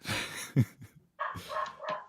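A dog barks in the background, giving a few short barks and yips spread over a couple of seconds, fairly faint and with no talk over them.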